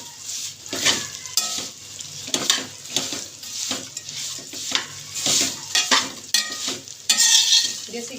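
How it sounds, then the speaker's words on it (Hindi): Leftover roti pieces roast in desi ghee in a pan, with steady sizzling under repeated scraping strokes of a spoon stirring against the metal, close and fairly loud throughout. "आप घी के साथ इसको हम 2 से 3 मिनट रोस्ट करेंगे।"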